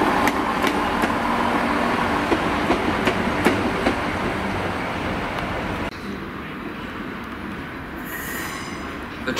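Train pulling into Cardiff Central station, wheels clacking and squealing on the rails in a loud, close rumble that eases as it slows, with a high brake whine near the end.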